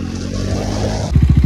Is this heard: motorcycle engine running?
yes